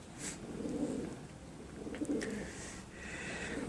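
A male pigeon coos nearby in a pigeon loft, giving three low, throaty rolling coos spaced about a second apart, with faint chirps in the background.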